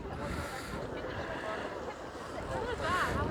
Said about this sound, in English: But cold wind.